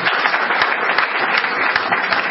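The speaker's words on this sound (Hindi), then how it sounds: "आमंत्रित करता हूं अंजलि शर्मा को तालियां बजाकर" Audience applause at a cartoon festival award ceremony in 2005, steady dense clapping throughout at a loud, even level with no voices over it.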